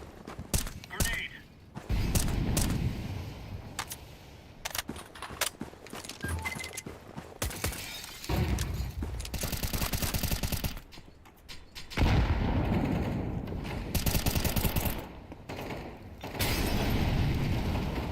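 Booming explosions and bursts of gunfire in a video game firefight, with several heavy blasts and rattling shots spread across the stretch and a voice talking over the noise.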